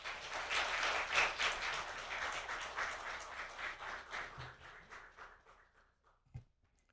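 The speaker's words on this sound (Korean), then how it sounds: "우리 박수로 모시겠습니다." A church congregation at a Sunday evening service applauds in welcome of a preacher, a dense burst of clapping that gradually thins and fades out over several seconds, ending with a faint thump.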